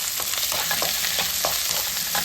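Fenugreek, curry leaves and chopped garlic frying in hot oil, a dense continuous sizzle up close with soft repeated stirring taps, no voices.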